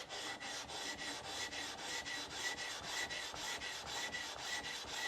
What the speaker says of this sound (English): using a lower grit stone, we're going to surface the sharpening stone until we can't see any of the lead left